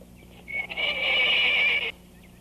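A horse gives a loud, close neigh lasting about a second and a half, standing alone with no talk over it.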